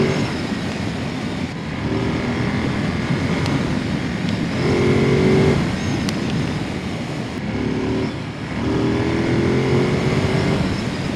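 A Ducati Monster motorcycle roars as it is ridden, the engine rising in pitch through the revs, easing off and climbing again in several pulls under constant wind rush.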